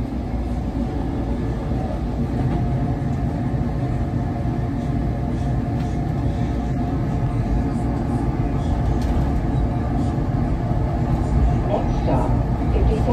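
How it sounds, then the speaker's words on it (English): A SEPTA Frankford Line subway train running, heard as a steady low rumble and rattle from inside the car, with faint voices in the background. "69th Street train making all stops."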